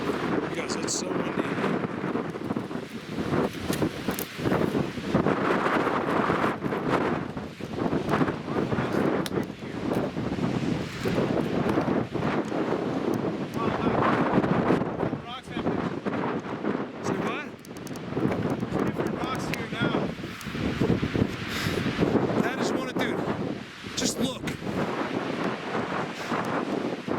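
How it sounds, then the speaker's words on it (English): Strong, gusty wind on a mountaintop batters the microphone in heavy roaring waves that rise and fall without a break. Voices talk briefly beneath the buffeting. "it's so windy"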